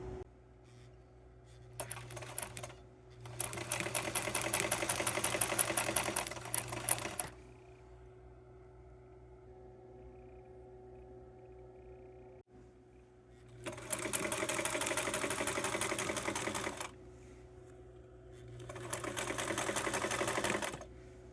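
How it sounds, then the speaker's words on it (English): A sewing machine stitches small quilt pieces together in three separate runs of rapid, steady mechanical whirring, each lasting several seconds, with quiet pauses between and no talking. "I'm going to sew these together and it'll be the heart, the middle of whatever little quilt-like thing I'm going to make"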